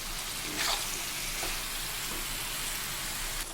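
Shrimp sautéing in mustard oil, a soft steady sizzle with occasional scrapes and clicks of a spatula stirring in the pan, quiet and close with no voices.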